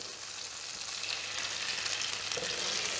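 Brioche perdue sizzles and fries steadily in a pan, a close, continuous crackle with no pauses and no voices over it.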